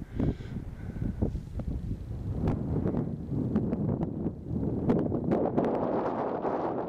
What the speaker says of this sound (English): It's very windy up here, so you might not be able to hear me in a minute.